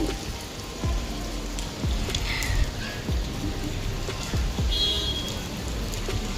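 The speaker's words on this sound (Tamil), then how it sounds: "மழை லேசாக தூருது மழை நின்னால் கூட பரவாயில்ல நிற்கல" Light rain falls steadily on outdoor surfaces during a rainy day at a family home, a soft continuous patter with scattered sharper drops and faint distant noise throughout.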